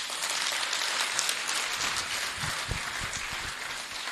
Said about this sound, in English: Let's give another round of applause to Ms. Govere for empowering all of us about